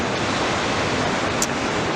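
Ocean waves break at Anglet beach on France's Basque coast, a steady broadband wash of surf that fills the whole stretch, close and continuous with a slight brief hiss of spray near the end.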